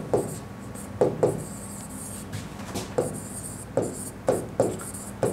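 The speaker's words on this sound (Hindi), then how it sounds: "यहाँ पर मैं लिख रहा हूँ इसका वर्किंग मेथड" Chalk or marker writing on a board in a classroom, with repeated scratchy strokes and taps arriving in short bursts at an irregular rhythm, close and fairly clear, with no talking.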